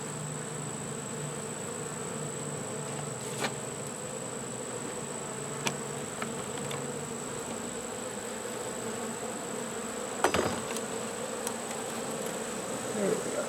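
Honey bees buzz around an open beehive after rain, a steady, faint, continuous hum with a few brief louder passes close by.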